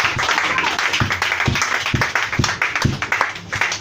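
A church congregation claps to acclaim Jesus, with strong rhythmic beats standing out over a dense bed of applause and crowd noise.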